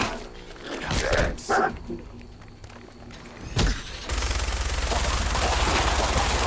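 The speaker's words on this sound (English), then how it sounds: "I'm gonna keep wasting bullets on these ghouls" Gunfire at ghouls in Fallout 4, a few loud separate shots early on followed by a sustained dense stretch of rapid fire.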